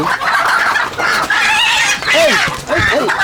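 Kadaknath chickens squawk and cluck loudly and close by in agitated bursts as a rooster is caught, its harsh calls rising over the flapping commotion.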